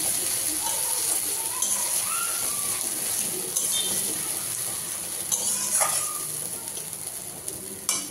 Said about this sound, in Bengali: দেখো এই পর্যায়ে দিয়ে দেবো আদা রসুন পেঁয়াজ বাটা, দিয়ে একটু কষাবো।